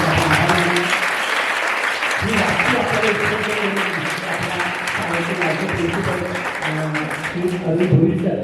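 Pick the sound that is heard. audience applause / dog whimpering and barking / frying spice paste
audience applause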